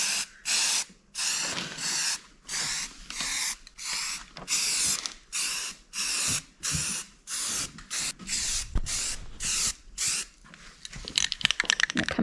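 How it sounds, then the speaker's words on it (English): Primer is sprayed onto a valve cover in short, even bursts, a loud hissing aerosol spray repeating about a dozen times in a steady rhythm with brief gaps between passes. "I'm going to start with my valve cover. Do a nice little even coat of primer first."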